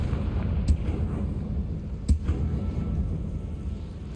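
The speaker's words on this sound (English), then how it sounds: "Is that the noise that they make when the cobweb burns?" Confringo fire spell igniting a cobweb in Hogwarts Legacy: two short, sharp fiery bursts about a second and a half apart, rising over a steady low rumble of game ambience.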